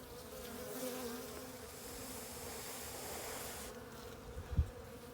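Honey bees buzz steadily over an open hive frame, a continuous close droning hum with a faint thump near the end.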